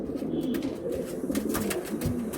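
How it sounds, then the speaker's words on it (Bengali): Pigeons of a rare, high-quality breed cooing in a loft, a low steady murmur of overlapping coos throughout at moderate level, with no talk. "এই পায়রা ডাকছে, দেখুন"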